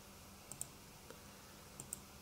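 A computer mouse clicks on a menu in diagramming software, faint sharp clicks in two close pairs spaced about a second apart, with a single softer tick between them, over quiet room hiss.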